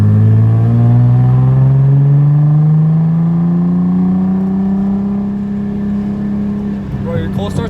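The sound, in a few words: Nissan 300ZX straight pipe exhaust revving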